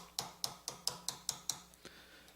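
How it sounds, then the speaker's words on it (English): A steel punch struck with a hammer to drive a shaft out of a motor's flexible coupling flange on a remote mast: six evenly spaced, ringing metallic blows, close and clear, followed by a fainter tap. "take a punch and place it on the end of that shaft and drive the shaft through the flange"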